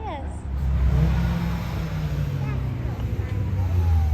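A car pulling into the pits at a track day rumbles low and close, its engine note steady and throaty as it rolls in, with people talking nearby.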